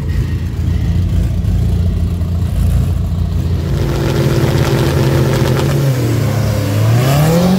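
Two drag-racing cars, one rear-wheel drive and one front-wheel drive, roar down the strip together, their engines droning loudly and then revving up with a rising whine near the end.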